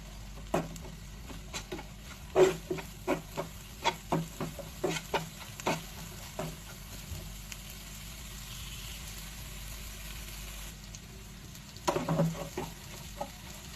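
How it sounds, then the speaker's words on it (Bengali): Blended beef for a bhorta is stirred and fried in a pan, giving a steady run of close spatula scrapes and knocks over a faint, low sizzle. "আমি এখন মাংসটা এখানে নাড়তে নাড়তে একটু ভাজা ভাজা করে নিব"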